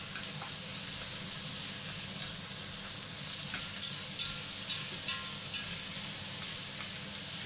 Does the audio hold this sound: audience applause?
no